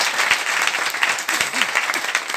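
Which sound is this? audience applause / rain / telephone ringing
audience applause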